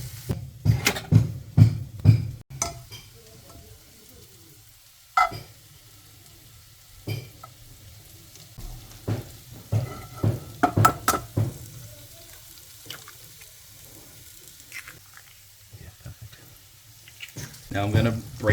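Food frying in a pan for an English breakfast with local ingredients, a steady low sizzle broken by clattering bursts as pieces are moved and flipped, with a person talking over it.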